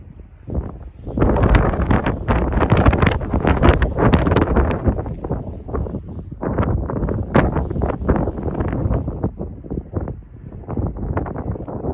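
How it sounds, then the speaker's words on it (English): Heavy wind buffeting the microphone on a seaside fishing pier at Harwich, a loud continuous rumble with gusty rustling bursts throughout, no speech. "Sorry about the wind."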